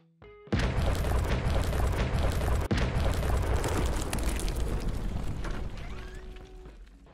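In the video game Coal Mining Simulator, a sudden loud dynamite blast erupts after a brief beep, followed by a long roaring, crackling rumble that slowly dies away, with a second thump midway.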